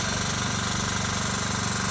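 A tractor engine runs steadily at close range, a continuous loud rhythmic chugging and throbbing with no break, carrying pavlon riders to a large kopkari goat-pulling event in Urgut.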